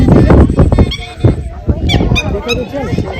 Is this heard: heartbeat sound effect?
no